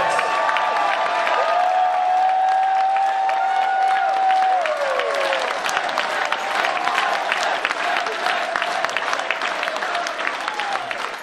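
Convention audience at a closing ceremony breaks into a big round of applause with cheers and whistles, loud sustained clapping that slowly thins toward the end.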